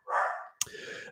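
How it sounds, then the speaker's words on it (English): A dog named Luca barks indoors, a drawn-out bark followed by a sharp yelp-like bark, close and fairly loud with no talk. "Well, the dog's just gonna keep barking."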